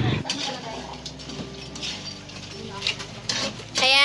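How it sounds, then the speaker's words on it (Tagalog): Dishes being washed in a home kitchen: scattered clinks and clatters of plates and utensils, close and intermittent, with a voice speaking over them. "naghuhugas pala si ate ng pinggan"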